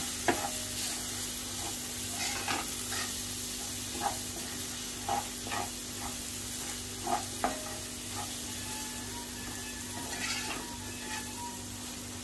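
Ground paste being stirred into masala frying in a pan for a whole masoor lentil curry, with a steady close sizzle and repeated soft scraping strokes of the spoon throughout.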